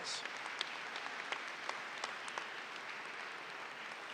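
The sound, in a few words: audience applause at commencement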